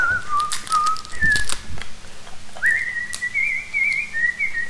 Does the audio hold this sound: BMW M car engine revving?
no